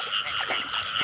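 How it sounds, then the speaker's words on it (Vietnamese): A frog croaks nearby at night, a continuous, rough, buzzing call holding steady and close. "Ếch kia nó kêu kế bên luôn mà mình không dám gọi qua nữa."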